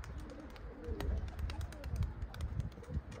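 A tumbler pigeon back from flight gives soft, low coos close by. Light rustling and small ticking noises run beneath the calls.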